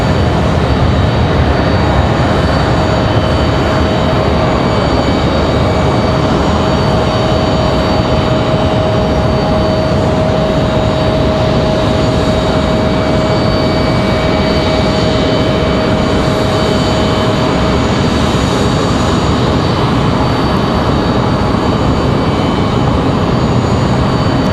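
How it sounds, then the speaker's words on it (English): Airbus A220-300 airliner touching down and rolling out on the runway at Raleigh-Durham, a loud, sustained jet roar with a steady whining tone that holds, then fades away, and no voices. "Smooth touchdown for the A220-300."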